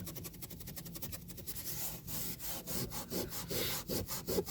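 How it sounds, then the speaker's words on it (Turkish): Steady back-and-forth rubbing strokes of felt over dried putty on a cracked Toyota Corolla glovebox scrape close up, a rhythmic rasping that speeds up toward the end. "Keçeyle üstünün fazlalığını alıyoruz."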